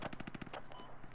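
A machine gun fires in the Squad video game, a rapid burst of about six evenly spaced shots followed by a few scattered rounds, loud and close.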